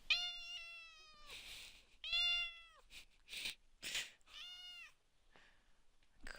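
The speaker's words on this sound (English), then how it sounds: "Crazy cat." A pet cat named Gremlin meows several times in a row, drawn-out and loud, with brief pauses and a few softer squeaks between calls indoors.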